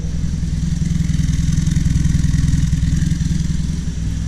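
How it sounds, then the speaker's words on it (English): A Triumph Spitfire engine with a Weber carburettor idles steadily and close by, a low, even rhythmic chug with a faint mechanical clatter and no speech. "Alright, I got it idling right now."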